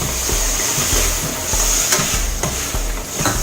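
Tomatoes and minced mutton keema sauté in a steel pan, giving a loud, close sizzle broken by a regular rhythm of spatula knocks and scrapes against the metal. No speech is heard.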